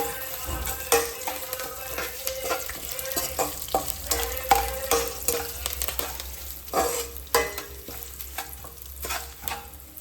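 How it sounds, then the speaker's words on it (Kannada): Cumin seeds fry in hot oil for a Karnataka-style raw mango rice, giving a steady close sizzle with repeated sharp scraping and stirring clatters of the spoon against the pan, no voices. "ಜೀರಿಗೆ ಹಾಕಿದ್ದೀನಿ, ಫ್ರೈ ಮಾಡ್ಕೊಂಡು."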